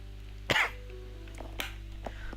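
A man's single close, harsh cough followed by a couple of softer throat-clearing coughs, over a faint steady room hum during a game stream.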